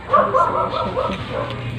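A dog gives a short bark and yelping whimper at a seaside fishing spot, fairly close and loud, with people talking in the background.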